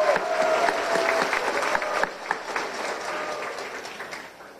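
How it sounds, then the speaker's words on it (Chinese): A banquet audience of overseas Taiwanese compatriots in San Francisco gives dense, sustained applause that eases slightly toward the end, with no voices over it. "我们再次帮自己所有的侨胞来掌声鼓励一下，好不好？"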